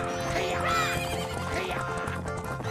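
Horses neigh in The Legend of Zelda: Majora's Mask 3D, two rising and falling whinnies one after another, fairly close, over a steady low musical drone with faint hoof clops, and no one talking.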